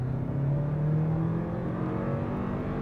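Toyota Crown Platinum sedan pulling away from a stop with brief wheel spin on a country road, engine note rising steadily and loud, heard alone.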